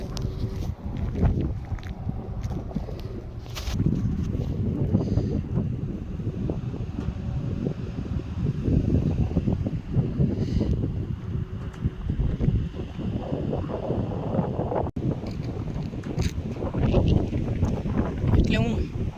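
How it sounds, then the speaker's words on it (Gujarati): Strong stormy wind buffets the microphone during a rainy bicycle ride in Rajasthan, a continuous loud low rumble with gusting surges throughout, plus faint rattles. "વાવાઝોડા જેવું ઘણું છે અને વરસાદ પણ એટલો ચડ્યો છે"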